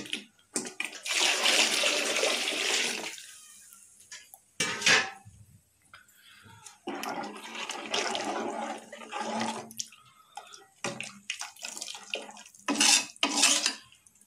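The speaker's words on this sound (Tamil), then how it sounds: "இந்த தண்ணியை இப்போ இதில் சேர்த்துக்கலாம்" Water poured into a cooking pot while making a Karnataka-style iruthu kuzhambu, splashing and clattering against the metal in several bursts with short quiet gaps between them, heard close up with no talking.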